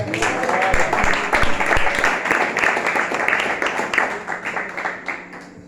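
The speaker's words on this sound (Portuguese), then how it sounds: "Aplauda o Senhor" A church congregation applauding together, a dense, steady wash of many hands clapping that holds throughout at full strength before easing slightly toward the end.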